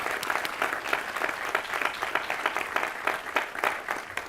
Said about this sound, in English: Let's give a round of applause to Dr. Lau and Dr. Bonney